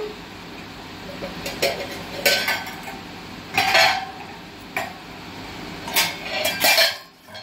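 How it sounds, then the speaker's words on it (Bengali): Metal clatter of a pan lid being set down and adjusted over a pan of hilsa fish curry in yogurt sauce, several separate clinks and scrapes spread over a few seconds at close range, with no talking. "আমি 2 মিনিটের জন্য ঢাকা দিয়ে দেব"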